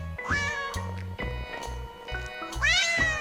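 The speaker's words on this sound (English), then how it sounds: "Kitten." A kitten meows repeatedly in short, high, rising cries, close and clear, with brief gaps between calls and a longer wavering meow at the end.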